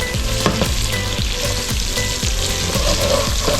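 Garlic cloves fry loudly in a pan while being stirred, with a close, busy sizzle and repeated scraping and clattering strokes from the spoon, no one talking.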